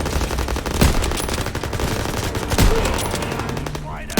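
Sustained automatic machine-gun fire in the Call of Duty: WWII S.O.E. mission, with rapid continuous bursts close and loud, and a couple of heavier thumps cutting through.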